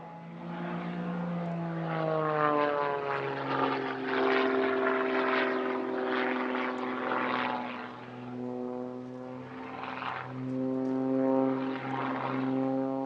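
An Extra 330 aerobatic propeller plane at the Air Legend airshow in Paris-Villaroche, its engine buzzing strongly with pitch rising and falling through manoeuvres, loud and continuous, without speech.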